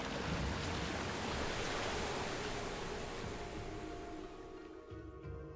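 Broad, steady rush of water flooding in within the video game Okami HD, a continuous roaring wash that eases and thins toward the end.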